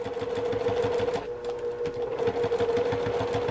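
A sewing machine runs in a quick, even rhythm, stitching through two layers of plastic while making a zippered travel bag; the motor hum and needle clatter stay close and steady, briefly easing mid-stretch before resuming, with no talking.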